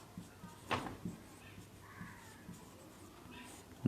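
Chalk or marker strokes on a classroom board during a Hindi-medium chemistry lesson, a few faint scratchy marks scattered through a quiet room.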